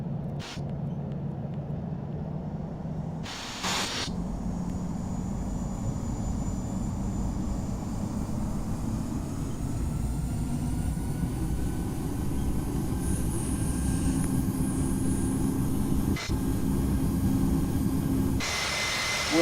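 Singapore Airlines Airbus A350-900 takeoff roll in the Infinite Flight game: a steady, swelling jet engine roar builds throughout, with a few brief clicks and a thin high whine late on.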